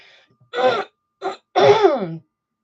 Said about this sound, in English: probably going to clear my throat for the rest of the day